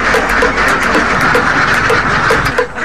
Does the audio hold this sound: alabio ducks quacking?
yes